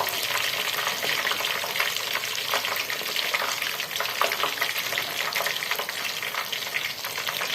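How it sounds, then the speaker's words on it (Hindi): Lahori chargha chicken deep-frying in hot oil gives off a steady, dense crackling sizzle with scattered pops, close and loud throughout. "चरगा हमारा अच्छी तरह फ्राई हो गया"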